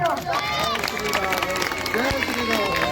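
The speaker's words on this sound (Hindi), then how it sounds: "जोरदार तालियां" Loud crowd applause at a religious gathering, continuous clapping mixed with babbling voices and shouts for the whole stretch.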